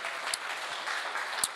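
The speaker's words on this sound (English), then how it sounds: "let's give a big round of applause to Kai" Faint, thin clapping from a conference audience after a talk, soft and even with a couple of brief sharper sounds.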